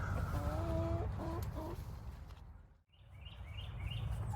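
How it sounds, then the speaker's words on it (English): A rooster on a farm crows once at moderate distance, its drawn-out call rising and falling, followed by quieter bird chirps. "I finally got a rooster crowing"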